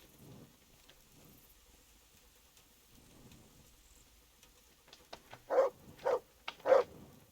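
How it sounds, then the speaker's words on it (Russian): A dog in the video game Kingdom Come: Deliverance barks three times in quick succession toward the end. The barks are clear and fairly close, following near-silence with a faint rain-like hiss. "Что ты гавкаешь?"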